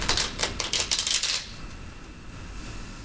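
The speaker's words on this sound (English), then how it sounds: "I'm going to take them and I'm going to make a perfect riffle shuffle" A deck of playing cards riffle shuffled slowly by hand, a quick burst of crisp flutters and snaps at close range, then quiet room tone.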